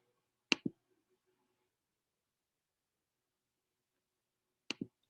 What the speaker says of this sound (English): The first one was me snapping my fingers